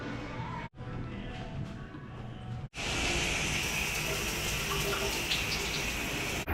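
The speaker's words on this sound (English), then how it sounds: "This is a nice hot shower." A hot shower runs steadily in a gym locker room, a loud, close, continuous hiss of spraying water that briefly cuts out twice early on before running strongly again.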